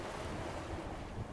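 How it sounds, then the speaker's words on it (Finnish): Steady wind at sea of about 6 m/s aboard a sailboat under sail, a continuous broad rushing roar with wind buffeting the microphone and water noise, with no voices. "6 metriä sekunnissa tuulee."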